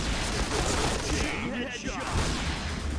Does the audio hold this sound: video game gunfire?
yes